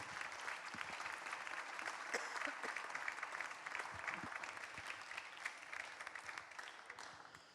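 Conference audience at an evening event on social housing claps together, a faint, distant wash of steady applause lasting several seconds with a few louder claps and faint murmurs mixed in.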